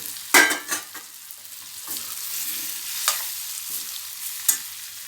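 Bitter gourd sizzles softly in a hot pan, with occasional scraping and clinks of a spatula stirring the pieces.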